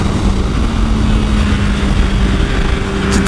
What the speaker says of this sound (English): Getting the motorcycle up to pace here a little bit.